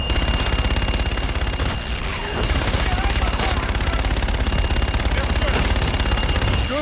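An airstrike's gunfire in the sci-fi shooter Call of Duty: Infinite Warfare, a loud, sustained roar of rapid automatic bursts running almost unbroken through the whole stretch.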